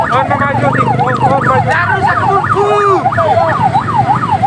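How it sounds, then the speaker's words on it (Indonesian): Ambulance siren wailing loudly and steadily close by on a badly damaged provincial road in Simalungun, North Sumatra, its rising and falling tone repeating throughout over traffic noise while people talk. "mari kita sama-sama kita lewatkan ambulans ini"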